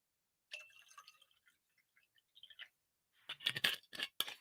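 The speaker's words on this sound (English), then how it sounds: "pouring myself a refreshment if you don't mind." A refreshment is poured into a blue glass: a short, trickling pour and light clinks, followed by a denser burst of splashing liquid, close and fairly quiet in an otherwise silent room.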